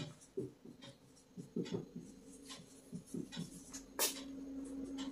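Pen strokes on paper during a class 6 math lesson come through as irregular scratchy marks, short strokes and taps with brief pauses. Near the end a sharp click is heard, followed by a faint steady hum.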